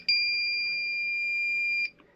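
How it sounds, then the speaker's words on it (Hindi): A DIY battery water level indicator sounds a single steady electronic beep lasting nearly two seconds, clear and tonal against a quiet background, with no voices. "ये ऐसे बीप मारने लगता है"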